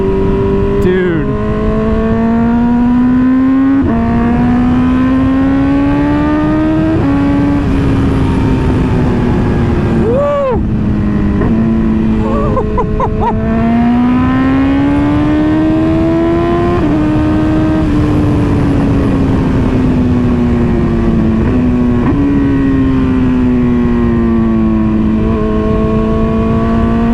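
A 2024 BMW M1000R sport bike with added power screams through repeated hard accelerations, its high engine whine rising through gear after gear, loud and close, with voices speaking over it in places.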